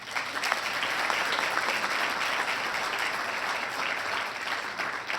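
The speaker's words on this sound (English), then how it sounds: "Give him a round of applause." Sustained applause from an audience at a police awards ceremony, a dense, even wash of many hands clapping steadily for about five seconds with no speech over it.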